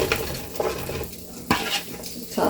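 Garden squash cooking in leftover seasoned ground beef grease in a pan, with soft sizzling and repeated scraping stirs of a utensil against the pan at close range.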